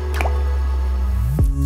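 Dishwasher detergent pod dropping into water, a single brief drip-like plop and squish landing over a steady background hum, with a short watery splash near the end.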